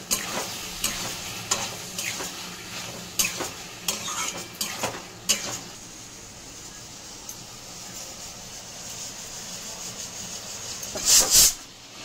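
Moong dal or soybean papad sizzles in a pan while a utensil scrapes and clinks against the metal in irregular strokes, then the sizzle settles into a steady hiss before a final scrape.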